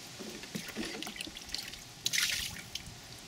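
Water pours and trickles out of an overturned container, a faint, loose run of splashes and drips with a brief louder gush partway through.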